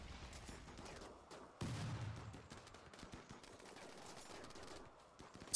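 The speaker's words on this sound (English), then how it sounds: "Seriously, how many bullets do we have to put in you?" Video game gunfire in Rimworld as colonists shoot at an enemy, rapid crackling bursts of small arms fire, fairly faint, in a steady fusillade with a louder burst partway through.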